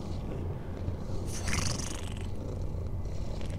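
A cat in an indie horror video game purrs continuously while being petted, a close, soft, steady rumble that brightens briefly midway, with no talking.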